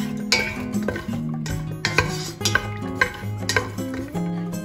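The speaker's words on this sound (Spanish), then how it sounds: "lo tiraremos también al aceitito, lo moveremos y que se vaya sofriendo" A garlic clove fries in a little oil while a utensil stirs it around the pan, giving a series of bright metallic clinks and scrapes in an irregular rhythm, close up and fairly loud.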